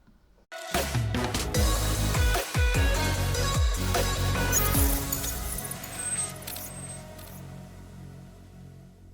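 Unboxing a Redragon Flekact Pro mechanical keyboard: close, loud rustling and scraping of the box and packaging, with a few sharp clinks and knocks early on, then handling noise gradually quietening.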